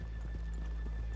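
Horse hooves clip-clop steadily in Red Dead Redemption 2, a regular rhythmic beat of several footfalls over a constant low hum.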